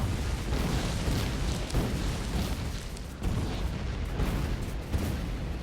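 Grenades going off in the video game Factorio with the Pyanodons mod, a run of heavy, rumbling booms that overlap into a continuous roar with a few sharper thumps, no voices.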